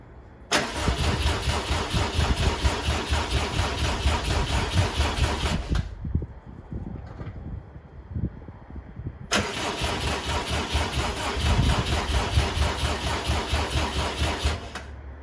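2007 Subaru WRX swapped to an STi engine being cranked on its first start-up attempt, two long loud bursts of whirring starter cranking separated by a brief quiet pause, close up, without catching.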